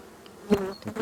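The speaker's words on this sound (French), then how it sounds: "il y a pas mal d'abeilles" Close honey bee buzzing at a nucleus hive during an inspection, in short, uneven bursts, a brief droning hum that swells and fades.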